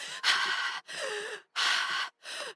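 Rhythmic breathing for running is demonstrated: four close, forceful breaths in a steady in-out pattern, each a breathy rush of air separated by short silences.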